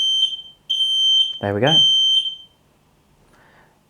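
An X-Sense FS31 smoke alarm sounds its test tone, a series of loud, piercing high beeps in repeated bursts close to the microphone, with someone speaking briefly during the beeping.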